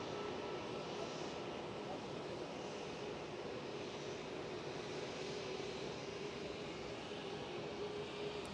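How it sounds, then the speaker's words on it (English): A Eurowings airliner taxis at Cologne Bonn Airport, its engines giving a steady distant roar and whine with no break across the stretch. "Oh, that Eurowings is moving."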